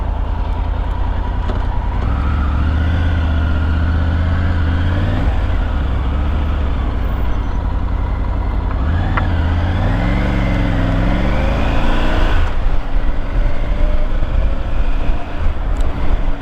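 Triumph GT Pro motorcycle riding on the road, a steady close engine drone with rising and falling revs through gear changes, wind noise throughout and no talking.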